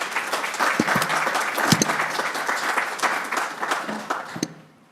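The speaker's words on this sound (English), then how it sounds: "we can give a round of applause" An audience at a Dr. King unity luncheon applauds the founder of an Africana Studies program, with dense, sustained clapping and a few sharper hand claps standing out before it tapers off.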